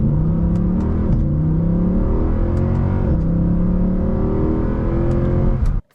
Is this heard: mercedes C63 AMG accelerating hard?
yes